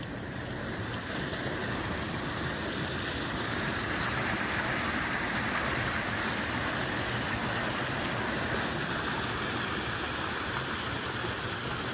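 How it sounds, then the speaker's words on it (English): Indian Creek running high after rain rushes past as a steady, loud, broadband roar of churning water, unbroken and close by with no voices. "Indian Creek's pretty high today. It's a raging, raging, raging river."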